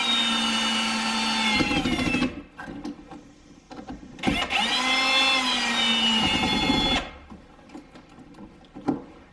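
A power drill whirs in two long bursts with a pitch that rises and falls, separated by short pauses and a few knocks.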